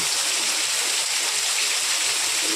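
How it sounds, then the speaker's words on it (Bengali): Rain falls in a steady, dense wash of hiss and patter nearby, unbroken and fairly loud throughout, with no voices. "এরপর আরও জোরে হলে আরও ভালো লাগে দেখতে বৃষ্টিটা।"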